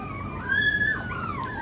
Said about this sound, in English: Did you hear that puppy in the other room barking?